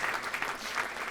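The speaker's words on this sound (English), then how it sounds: "Everybody give him a round of applause." A studio or hall audience gives a warm round of applause, steady clapping at moderate volume from a group of people, with no talking over it.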